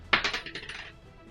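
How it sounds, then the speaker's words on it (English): A quarter drops onto a desk, striking once and then bouncing and rattling in a quick run of bright metallic rings that fade within about a second, close and fairly quiet. "This is the sound of a quarter dropping on my desk."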